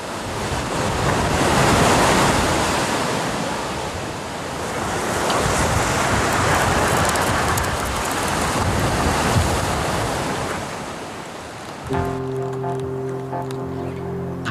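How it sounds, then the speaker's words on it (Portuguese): Atlantic ocean waves pound a rocky Canary Islands coastline below sheer cliffs, a loud, continuous surging roar with wind buffeting the microphone, then fading near the end as a low tonal drone comes in. "Procede uma costa batida pelas ondas com rochas imponentes."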